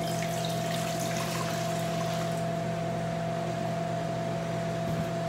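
Water pours into the inner pot of an electric pressure cooker, a steady splashing rush for a few seconds that then settles, heard close against a constant appliance hum.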